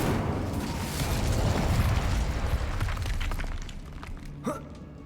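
Incendio fire spell cast in Hogwarts Legacy on PS5, a loud roaring burst of flame that swells and then fades over several seconds, ending in a short sharp crackle.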